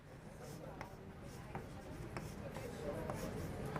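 Chalk or marker writing on a classroom board during a university calculus lecture, heard as faint, scattered scratchy taps and strokes under a steady room hum.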